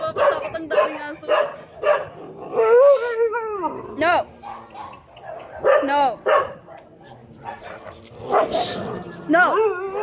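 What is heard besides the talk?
many dogs barking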